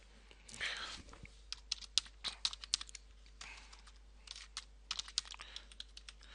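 A computer keyboard being typed on to enter a date into a calculator: quick, uneven bursts of light key clicks, close and fairly quiet, over a faint steady hum.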